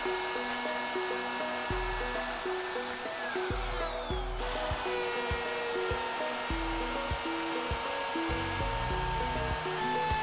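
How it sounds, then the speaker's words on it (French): A milling machine cuts a groove with a 6 mm cutter, taking 3 mm per pass. It gives a loud, steady mechanical whine with layered tones that step and shift as the cut proceeds. "Afin de retirer complètement la rainure, nous devons donc passer 4 fois avec la tête de fraisage."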